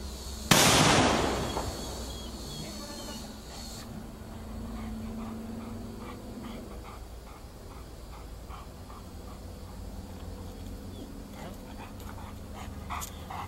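A single sharp firecracker bang goes off close by near a trained, unafraid dog, followed by quiet outdoor ambience with faint panting and small dog sounds.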